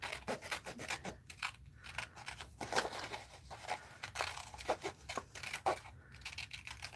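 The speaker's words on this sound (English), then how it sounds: "let's go ahead and cut this out fast." Scissors cutting out a paper craft pattern, a run of quick rasping snips and crisp paper rubs close by, uneven rhythm with short pauses, no talking.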